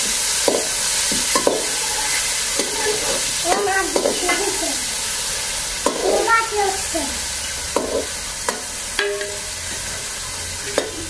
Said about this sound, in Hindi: अभी थोड़ा सा प्याज अभी छोड़ देते हैं ब्राउन होने के लिए